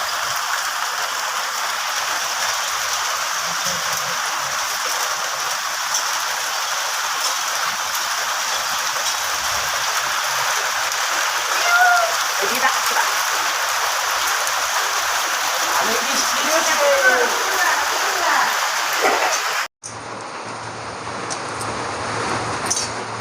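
Heavy rain falls as a steady, loud, broadband hiss that runs unbroken for the whole stretch, with a brief cut near the end before a similar wash resumes; no clear speech.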